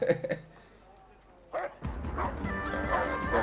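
A dog in the video game Kingdom Come Deliverance 2 barking and yipping, a few sharp barks at the start and more later under game sounds and music, with people talking.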